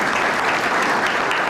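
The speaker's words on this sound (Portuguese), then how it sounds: "uma salva de palmas para ele" An audience applauds a guest at a community talk on Azorean emigration from Pico to Canada, with steady, dense clapping that fills the room at an even level for the whole moment.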